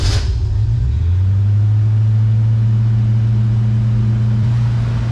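A 1966 Ford Mustang fitted with Sniper EFI holds a high idle after a brief opening burst, its engine droning loud, steady and close with no voices.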